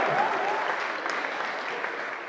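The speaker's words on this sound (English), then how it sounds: "Let's hear a round of applause for Moolah." A crowd at DogeCon SF, a Dogecoin conference in San Francisco, gives a round of applause for Moolah, a continuous roar of many hands clapping that starts loud and holds steady, with no talk over it.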